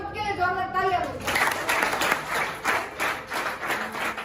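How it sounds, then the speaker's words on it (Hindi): An audience claps and cheers at a motivational speech, steady applause swelling after a voice fades out, continuing for several seconds. "एक बार खुद के लिए जोरदार तालियां दो।"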